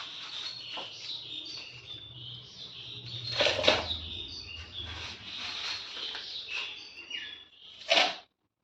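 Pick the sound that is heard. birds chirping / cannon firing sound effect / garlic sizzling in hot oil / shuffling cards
birds chirping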